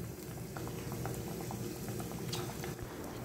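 Keema pakoras made with minced meat fry in hot oil with a dense, steady bubbling sizzle heard close up. The sputter and crackle continue unbroken, with no voices over them.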